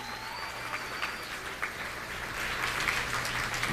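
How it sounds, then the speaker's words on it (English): Audience at a speaking event in Washington applauding, steady faint clapping spread across a room, continuous and building slightly toward the end. "Give yourselves a round of applause for being here for this whole week"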